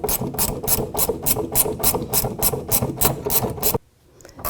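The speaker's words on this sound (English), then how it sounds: "Now I can take over with the ratchet wrench." Ratchet wrench tightening the gas tank strap bolt on a 1984-2001 Jeep Cherokee, a steady series of about a dozen evenly spaced, close, loud rasping clicks that stop abruptly near the end.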